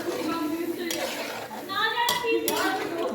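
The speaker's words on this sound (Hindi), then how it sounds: "ये पीछे बच्चों ने शोर मचाया हुआ है" Children's voices chatter and shout in the background of a home kitchen during cooking, while pots and utensils clink nearby and an adult talks over the din.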